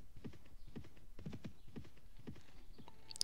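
Horse hooves clip-clop in a steady galloping rhythm as a mounted rider travels in the video game Mount and Blade Warband, close and clear, with a short faint electronic chime at the very end.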